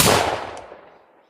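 A single loud shot from a Colt Walker revolver, a sharp blast at the very start followed by a long decaying rumble that fades over about a second, with no talking.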